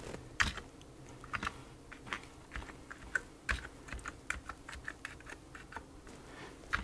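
Keys on an Amiga A600 computer keyboard are typed in irregular quick taps, faint and close, a scattered run of light plastic clicks over quiet room noise.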